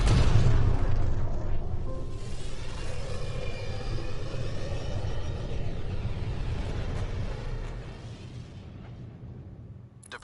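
The Tempest starship departs in Mass Effect, a loud, deep rumbling roar of engines that swells at first, holds steady and then slowly fades away near the end.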